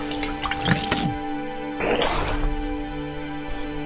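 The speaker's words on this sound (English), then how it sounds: "Just pour it in your water." Water poured onto overnight-soaked chickpeas in a home kitchen while making chole, heard as two short rising pours with splashing, close up, then quiet.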